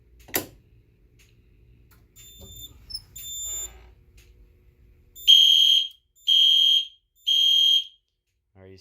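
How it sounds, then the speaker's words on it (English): A building fire alarm system set off at a local pull station sounds three loud, evenly spaced electronic horn blasts with a high tone, each about half a second long, after some handling noise and brief ticking from the panel. "So let's pull the local pull station here."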